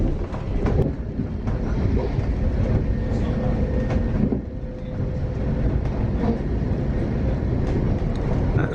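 A Class 66 freight train rumbles past near West Hampstead in London, a loud, continuous low roar with rhythmic wheel clatter filling the whole stretch.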